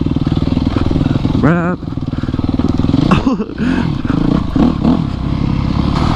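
Dirt bikes ride up a dirt trail on the way from the city to the mountains, their engines chugging loudly and close with the throttle rising and falling. Brief voices break in over the engine noise.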